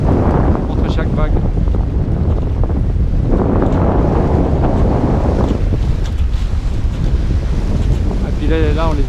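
Sailboat pushing through short, closely spaced choppy waves in a force 5 wind off Skikda, Algeria, with constant loud wind buffeting the microphone and rushing water, and a voice talking briefly near the end.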